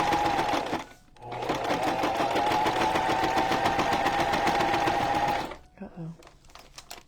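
A sewing machine stitches paper bag pockets for a junk journal, running in a loud, steady mechanical whir for several seconds after a brief pause, then stopping abruptly.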